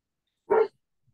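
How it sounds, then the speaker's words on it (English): One short, clear dog bark, moderately close, standing alone against an otherwise silent background. "Somebody's dog is barking."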